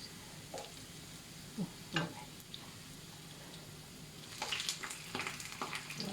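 Garlic fries in a pan with a faint, steady sizzle, broken by a few soft scraping stirs and light clicks of a utensil.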